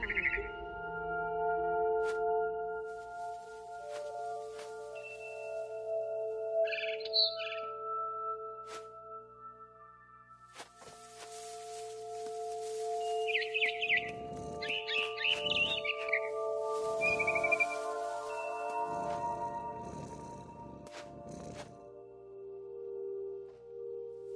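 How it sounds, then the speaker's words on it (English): A barn swallow returning to its nest gives a few short, high chirps outside a window, in scattered bursts over a steady tonal music bed. "Then I heard chirping outside my window. It was a barn swallow going back to her nest."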